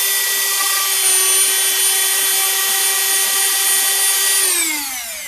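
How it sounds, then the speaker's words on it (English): A Dremel rotary tool whines steadily at high speed while widening a hole in a piece of tabletop terrain, its pitch holding constant for several seconds before sliding down as the motor switches off and spins to a stop. "I'm actually going to go ahead and take the Dremel. I'm just going to barely punch through the hole so we can widen it up"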